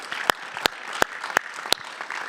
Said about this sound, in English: Maybe a round of applause for these folks